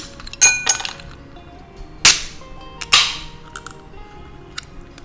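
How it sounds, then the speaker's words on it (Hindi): Ice cubes dropped into two glasses for a raw mango soda, giving several sharp clinking cracks in quick succession, a couple loud and close, followed by fainter rattles. "अब मैं ये ग्लास में थोड़ा सा आइस ऐड कर देती हूँ।"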